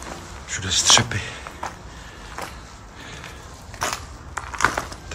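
Footsteps crunch over broken glass shards inside an abandoned brewery in Karlovy Vary, with a few sharp, gritty crunches spread irregularly across the moment, near and fairly loud, with a voice present at times.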